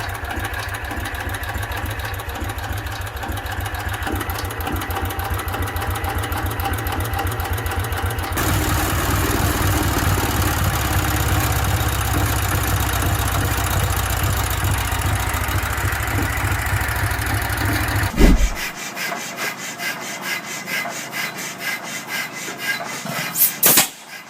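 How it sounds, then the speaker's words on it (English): A vintage side valve agricultural engine running on petrol or TVO, a steady rhythmic mechanical chugging that shifts in character partway through, then gives way to sharper, faster ticking beats near the end. "The engine operates on petrol, or TVO, using simple manual starting and reliable side valve design."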